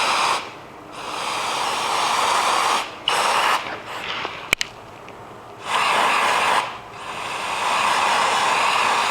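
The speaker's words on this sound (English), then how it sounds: "you'll want to make sure that you spray down the housing" Brake cleaner sprayed onto the brake housing of a 2009–2013 Dodge Challenger, loud hissing bursts that start and stop several times with short pauses between them, nearby and dominant.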